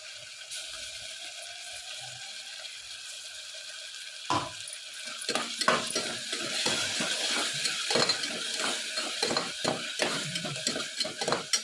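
Ground masala paste with tomato and onion frying in a pan for pav bhaji, a steady hiss at first, then busier bubbling and stirring scrapes building through the rest, close and moderately loud, with no talking.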